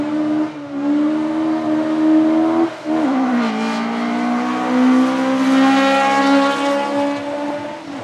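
Race car driving up a track at a racing run, its engine roaring loudly with a strong, rising pitch. The revs drop briefly at a gear change, then climb again steadily. No one speaks.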